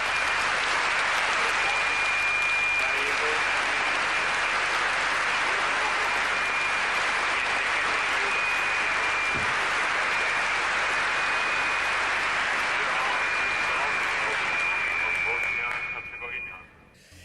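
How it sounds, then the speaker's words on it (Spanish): A packed Eurovision 1993 audience in an Irish hall gives a sustained ovation, dense continuous applause with a steady tone running through it, holding at full strength before fading out at the end. "La ovación fue absoluta por parte del respetable del pabellón"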